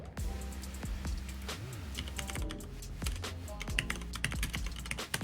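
Rapid, uneven clatter of keys on a computer keyboard, close and fairly quiet, running steadily over a low background hum.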